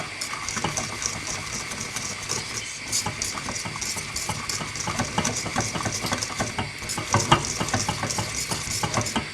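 Steady bubbling and spoon scraping in a pot, a thick custard mixture boiling while being stirred, with dense crackly texture throughout and no voices.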